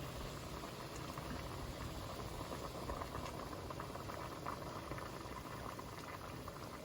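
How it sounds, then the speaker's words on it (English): Osso buco braising liquid bubbles at a steady boil in a pot, a faint, continuous low burble with soft pops and no speech. "We're going to bring that to a boil and let it cook for about 20 minutes"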